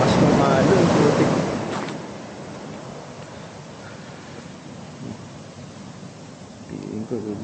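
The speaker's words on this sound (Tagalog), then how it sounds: "Ang lakas ng alon." Strong ocean waves on the Pacific shore at a beach resort surge in a loud, close crash, then recede into a steady, softer rush of surf with a faint swell near the end.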